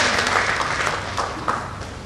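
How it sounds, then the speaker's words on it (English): An audience at a corporate business quiz applauds, dense clapping that is fairly loud at first and gradually fades. "A round of applause, certainly."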